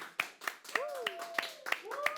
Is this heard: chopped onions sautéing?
no